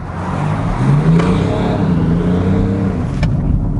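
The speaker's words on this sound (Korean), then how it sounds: "디젤임에도 불구하고 배기 사운드를 만들어줬다" A low, rumbling engine exhaust note hums steadily with slight revving swells, fairly loud and continuous, with no one talking: a BMW X7 30d diesel SUV's exhaust sound, synthesized and played through the car's speakers.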